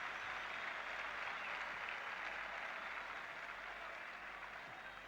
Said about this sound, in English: Irish crowd away off to our left, giving a farewell applause to Brian Hamilton.